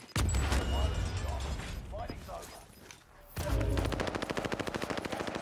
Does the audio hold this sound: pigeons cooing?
no